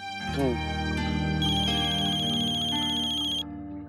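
A telephone ringtone plays a bright, repeating electronic melody, loud and close, looping for several seconds before it cuts off abruptly.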